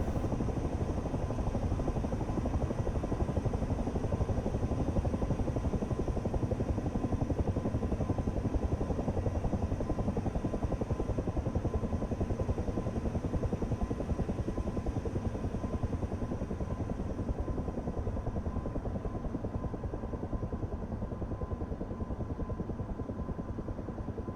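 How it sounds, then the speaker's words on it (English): A Chinook helicopter flies in the DCS flight simulator game, producing a loud, unbroken rotor and engine drone that holds steady throughout with a slight fade near the end and no talking. "Oh, there's a Chinook."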